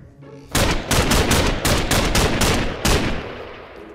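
Rapid bursts of automatic rifle fire in a Minecraft military-training role-play, loud and close, a string of sharp repeated shots over about three seconds after a quiet start, with no talking.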